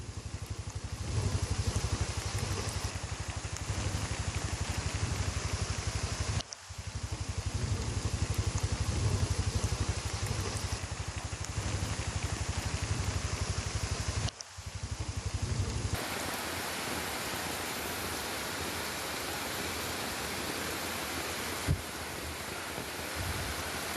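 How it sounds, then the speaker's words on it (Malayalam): Heavy rain at the Attappadi mountain pass, a steady dense wash of noise that holds loud and unbroken throughout, with two brief dropouts and a slight change in texture partway through. "അട്ടപ്പാടി ചുരത്തിലും കനത്ത മഴയാണ്. മലവെള്ളപ്പാച്ചിലും ശക്തമാണ് ഇവിടെ."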